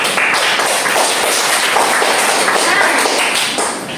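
A classroom of students gives dense, steady applause during a teaching session, a full wash of many hands clapping at close range that fades slightly at the end.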